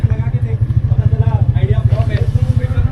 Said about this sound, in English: The inline 3-cylinder engine and the shaft.